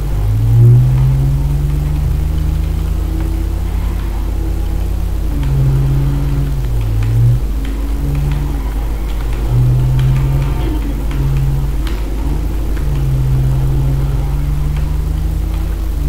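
A car engine drives steadily in GTA V, holding a loud, continuous mid-pitched drone with brief dips and rises as the throttle shifts, with no talking over it.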